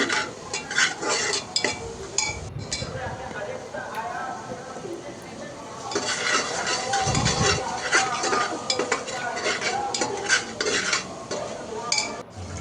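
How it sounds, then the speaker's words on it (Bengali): Spiced beef being stirred and fried in a pressure cooker, with close, busy scraping and clinking of a spoon against metal over a steady sizzle, continuing for the whole stretch. "এজন্য প্রেশার কুকারেই কষিয়ে নিচ্ছি"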